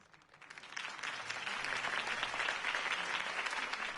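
Crowd applause in the video game Batman by Telltale, a political campaign rally moment: many hands clapping that swell in over the first second, then hold as a fairly quiet, even, distant-sounding roar of claps.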